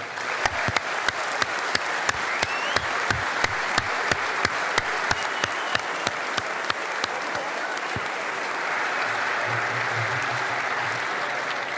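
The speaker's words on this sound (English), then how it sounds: "give a big round of applause for the FBU pipe band" A rally crowd applauds a fire brigades union pipe band with sustained clapping. Sharp individual claps stand out in a steady rhythm over the general applause, which carries on evenly until the end.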